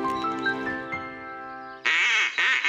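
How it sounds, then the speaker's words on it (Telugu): A cartoon duck quacks in a few loud, nasal bursts close up, following a stretch of soft, tonal background music. "ఆ శబ్దమా? దాన్నందరూ క్వాకింగ్ అంటారు."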